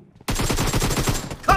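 Rapid automatic gunfire in a team deathmatch video game match, a close, loud burst of evenly spaced shots that starts abruptly out of silence and ends with a brief clink.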